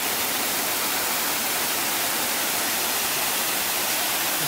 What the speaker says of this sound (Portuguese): A água caindo.